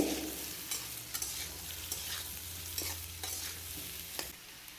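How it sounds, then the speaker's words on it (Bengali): Sliced ridge gourd and carrot are stir-fried in a pan with mustard oil, dried chilli and five-spice seeds, giving a soft continuous sizzle broken by scraping stirs of a spatula. The sound is fairly quiet and has no voices. "তারপর চাকা করা ঝিঙ্গেটা দিয়ে দিলাম তারপর গাজর দিলাম একটু নেড়ে ছেড়ে নিয়ে"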